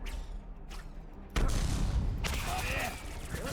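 Spell-casting shots from a Harry Potter video game sound like gunfire: bursts of booming, crackling blasts that swell into a loud, dense barrage with rumbling impacts, heard without talk.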